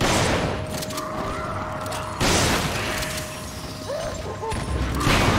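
Gunfire in the video game Resident Evil 5 crackles through a dense, noisy co-op battle, with bursts of shots and impacts layered under game effects and a player talking.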